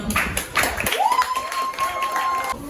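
An audience at a school debate between JSS1 and JSS2 claps in brief, scattered bursts during the first second, then gives way to a sustained tone and faint background murmur.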